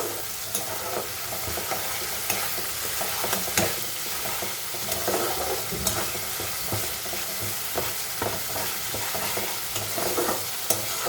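A ground spice paste with turmeric and salt fries and gets stirred in a pan, giving a continuous sizzle dotted with repeated clicks and scrapes of the spoon, fairly loud and close, with no voices.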